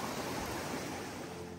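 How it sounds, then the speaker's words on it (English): Steady, broad rushing roar of a waterfall near a forest tent village in the mountains at Domail, constant and fairly loud with no other sounds. "mountains and the sound of waterfall."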